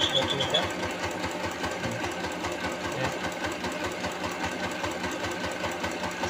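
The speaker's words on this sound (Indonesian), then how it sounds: "kita angkat sepatu, baru kita operasikan mesin jahit, nanti otomatis akan menggulung" A sewing machine runs steadily while winding the bobbin, a continuous close whirring and rapid mechanical chatter that holds an even level throughout.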